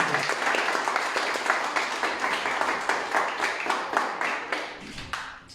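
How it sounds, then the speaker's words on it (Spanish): A church congregation claps steadily for several seconds, a dense, rhythmic applause in a reverberant room, fading toward the end. "Una fuerte palmas a Cristo"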